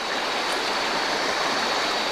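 River water rushes steadily past a riverside motocamping spot, a close, even, full-bodied flow with no breaks and no voices.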